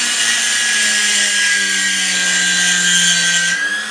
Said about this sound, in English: so I got it in the drill